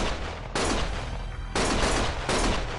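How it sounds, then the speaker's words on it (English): Heavy gunfire in the Lost Judgment video game, loud dense bursts of shooting arriving in three separate volleys with brief quieter gaps between them. "Stop shooting!"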